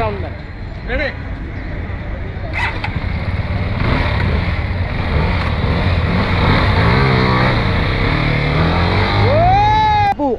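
A CF Moto SR 300 motorcycle engine runs steadily and loud on a test ride, with rising and falling revs near the end, while people talk over it throughout.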